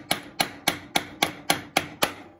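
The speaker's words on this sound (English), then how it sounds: "I usually take a backside of a hammer and tap them in." Back of a hammer tapping a part into place while installing the carburetor on a Troy-Bilt 2410 snow thrower: eight sharp, evenly spaced metallic knocks about a quarter second apart, close and clear with no talking.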